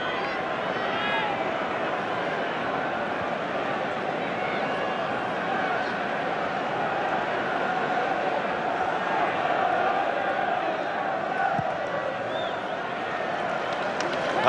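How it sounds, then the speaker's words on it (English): Roaring crowd at the 1999 Rugby World Cup semi-final between France and New Zealand, a steady dense wall of cheering and chanting throughout, with a commentator's voice running over it. "Listen to this crowd, it's incredible."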